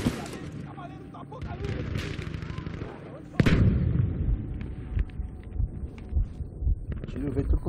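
Gunfire and explosions from a shooter video game, with dense bursts of shots and a loud blast partway through, followed by scattered booms and rattling fire that stay busy throughout.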